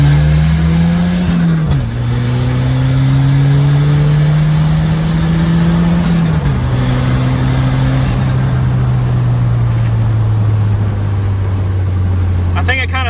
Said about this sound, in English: Oh, nice backfires.